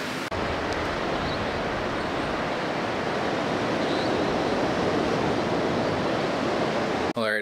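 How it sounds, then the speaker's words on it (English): Ocean surf at a Bali resort makes a steady, broad roar of breaking waves that carries on evenly without voices. "And there is the ocean."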